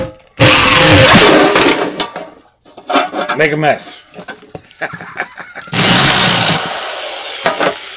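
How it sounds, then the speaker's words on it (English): A power drill whines loudly in two long bursts, drilling into a tin with rattling, metallic grinding between them, and a brief spoken remark in the middle. "A drill."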